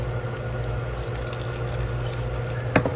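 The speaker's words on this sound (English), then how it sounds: "I'm going to pour some of this water into the soup mix" Water from a pot on a hot plate is poured into a soup mix, a quiet steady trickle under a low hum, ending in a brief louder splash.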